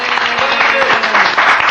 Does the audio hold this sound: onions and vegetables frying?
no